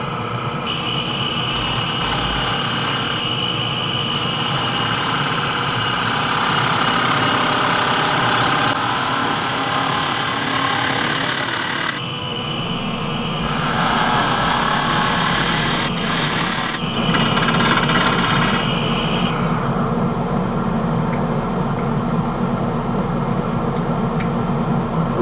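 A half-inch bowl gouge cuts wet cherry on a spinning wood lathe, giving a steady, loud roar with a running motor hum that keeps going for the whole stretch, with short breaks and shifts in tone as the tool cuts.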